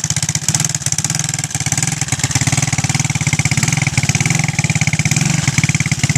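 A 200x motorbike engine runs steadily, its close, even putter pulsing at a constant idle rhythm throughout, with no talking.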